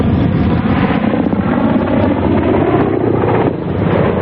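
A Ka-50 Black Shark attack helicopter flies past with a loud, continuous rotor and turbine roar that holds steady before dipping briefly near the end.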